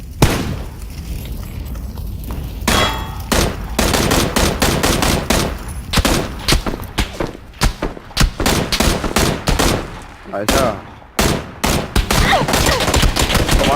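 Dense gunfire in PUBG (Battlegrounds), with rapid bursts and single shots from several weapons cracking loudly one after another and barely pausing.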